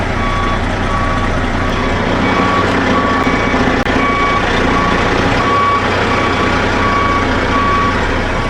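A tractor trailer backing up, its reversing alarm beeping steadily in an even repeating rhythm over a loud idling diesel engine rumble close by.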